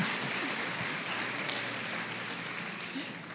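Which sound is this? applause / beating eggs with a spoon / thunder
applause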